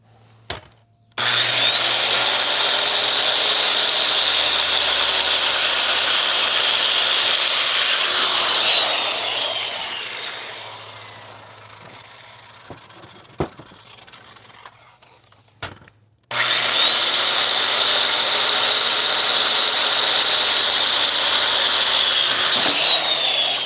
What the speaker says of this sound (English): Now that's a clean cut. Not too shabby with a skill saw, huh?